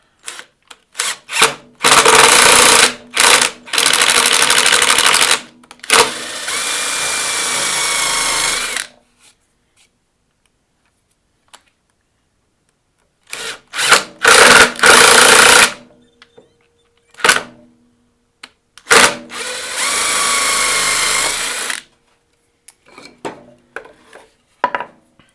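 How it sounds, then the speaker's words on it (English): Power drill boring a hole into a wooden push stick in a woodworking shop, sounding in several loud bursts of whining drilling separated by pauses and small clicks and handling noises. "I also put a piece of tape on the drill bit so as a marker for where I'm drilling to."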